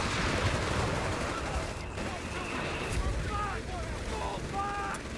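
Battlefield gunfire in Company of Heroes 3, a dense wash of continuous rifle and machine-gun shots with rumbling explosions beneath, while faint shouted voices cut through the din.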